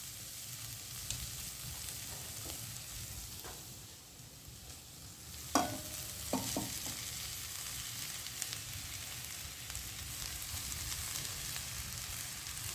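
String hoppers (idiyappam) stir-fry for kothu over sautéed ingredients, giving a soft, steady sizzle with a few sharp metal clanks and scrapes partway through, fairly quiet and with no speech.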